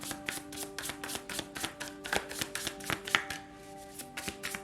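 Tarot cards are shuffled by hand in a run of quick, evenly spaced riffling snaps and soft slaps, close and fairly quiet, with no talk.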